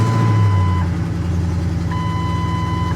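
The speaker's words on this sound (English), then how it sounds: "Sounds like a misfire, though." A car engine idles steadily with a low, uneven rumble, its rhythm faltering now and then, while a high electronic beep sounds in two long tones.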